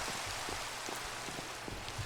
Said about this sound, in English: I hate rain so much.